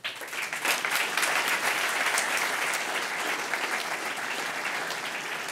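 Sustained audience applause at the close of a technical talk on Kubernetes application lifecycle, a steady dense wash of clapping from a conference room crowd with no talking over it.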